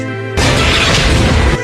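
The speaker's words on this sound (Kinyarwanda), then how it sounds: "dore ibisasu" An explosion in a dubbed Indian action film: a sudden, loud, broadband blast cuts in after a quiet musical bed and roars on for over a second with a dense, crashing rumble.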